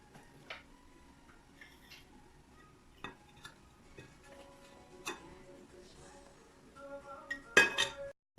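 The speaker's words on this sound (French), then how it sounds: "À l'aide d'une fourchette, je mélange." A fork taps and clinks against a bowl while eggs are mixed, with scattered light strikes building to a quicker burst of rattling at the end, and someone speaks quietly over it.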